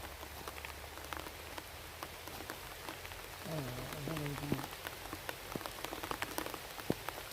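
Steady rain patters on a surface with scattered sharp drops; a brief voice-like tonal sound rises in the middle.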